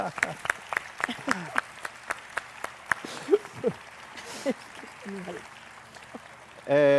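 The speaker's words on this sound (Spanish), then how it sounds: "Un aplauso para ellos." A brief burst of audience applause breaks out near the end, following a stretch of speech and room noise at a Spanish-language panel on journalism at FIC 2025.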